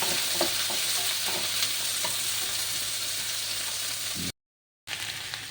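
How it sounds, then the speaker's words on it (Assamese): Onions and capsicum frying on a low flame, a constant close sizzle with scattered small scrapes of stirring, a moment of total silence near the end, and no voices. "পিঁয়াজ আৰু কেপচিকাম মই দিলোঁ। একদম ল' ফ্লেমত বনাইছোঁ এইটো, ল' ফ্লেম।"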